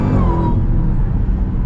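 Dodge Durango Hellcat SUV engine pulling hard in sport mode, a loud, steady low rumble with a rising then settling whine over the run, heard from inside the cabin without talk.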